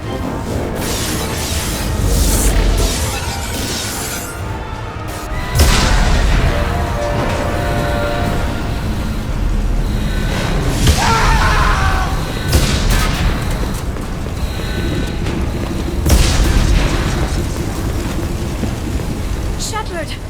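Mass Effect 2 spaceship under attack, with repeated heavy booming explosions and rumbling impacts through the whole stretch, interleaved with shouted voices, alarms and battle clatter.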